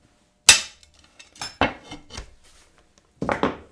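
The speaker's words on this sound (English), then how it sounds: "Listen to your cutter separating the molecules on the surface of the glass." A glass cutter scores Spectrum 305 white glass, giving a few sharp, close scratching strokes with short pauses between them.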